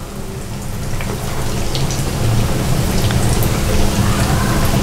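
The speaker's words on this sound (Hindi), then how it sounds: "अब हम इसको फ्राई करेंगे।" Bread rolls fry in preheated oil over a medium flame, a loud, dense, continuous bubbling sizzle that swells slightly and holds steady close up, with no voices.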